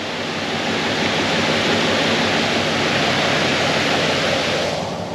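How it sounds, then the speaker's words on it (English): Fast-flowing river water at a swimming spot along Central Arnhem Road, a steady, loud, broadband rush that stays constant and close with no talk over it. "So the water's flowing fairly quick."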